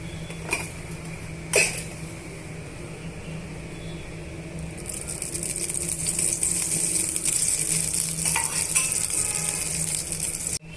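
Oil heating in a pan on a stove for semiya upma, a faint steady hiss that swells and grows louder partway through, with a few sharp metallic clinks of utensils early on.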